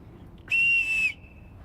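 A single steady whistle of silbo herreño, the traditional whistled language of El Hierro shepherds, sounds as a short clear reply lasting about half a second against quiet background hiss.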